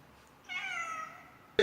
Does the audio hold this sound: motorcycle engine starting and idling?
no